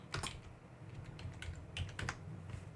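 Fingers tapping on a computer keyboard, a quick run of light, close clicks in uneven bursts.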